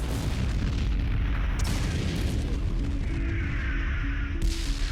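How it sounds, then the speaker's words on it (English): A massive artillery bombardment roars as a dense, continuous rumble of heavy booms and blasts, loud and unbroken, with low droning underneath. "After a massive bombardment, Operation Totalize begins."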